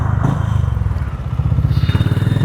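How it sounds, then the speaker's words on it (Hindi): Exhaust of a new motorcycle idling close by, a loud, even, rapid thumping putter that continues steadily throughout, with no talking over it. "साइलेंसर की भाई बहुत ही सही आवाज़ है"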